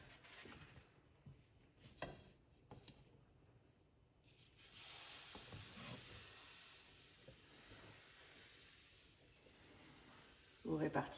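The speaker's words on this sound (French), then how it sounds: "Vous répartissez la pâte. Voilà. Et on cuit pendant 2 minutes sur ce côté." Crêpe batter sizzles as it spreads over a hot oiled pan, starting with a few clinks and scrapes, then turning into a steady soft hiss of frying that continues while a person talks quietly.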